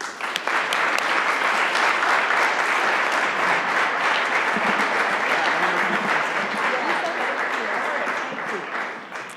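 Sustained audience applause welcoming Governor Jennifer Granholm to a morning keynote at the 2014 BERC Summit, a dense, even wash of clapping that stays loud throughout.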